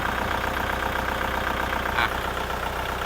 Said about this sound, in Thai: เครื่องสตาร์ทติดง่ายนะครับ เสียงเครื่องปกตินะครับ เสียงเครื่องไม่เข่งนะครับ